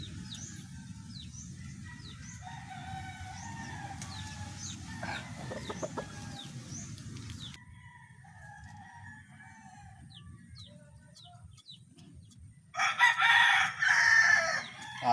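Backyard chickens cluck and murmur close by during feather trimming, with chirpy calls scattered throughout, then a rooster crows loudly near the end.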